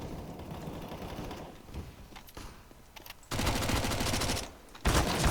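Gunfire in the video game CS:GO comes in rapid automatic bursts, some loud and close, with scattered single shots in between and no talking.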